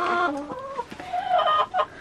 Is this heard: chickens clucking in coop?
yes